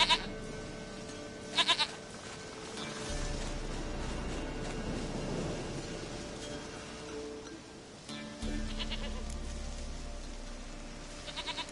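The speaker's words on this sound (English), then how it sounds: "Goat of mine, dearest, sweetest goat." A goat bleats in the video game The Witcher 3. Several bleats come against continuous outdoor game ambience with a soft rustling background, and there is no speech over them.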